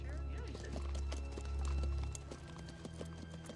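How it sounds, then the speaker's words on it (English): Several horses approaching in a Western setting, hooves clip-clopping in a steady rapid rhythm over a low rumbling bed, with a whinny among them, fairly faint and fading toward the end. "Yeah, horses. Look at that."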